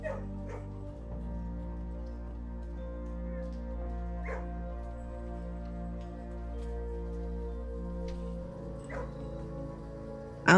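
Dogs in the video game Blue Prince give several short yips and barks with a soft whimper, spaced across a sustained droning game music bed, fairly quiet, with a louder burst at the end.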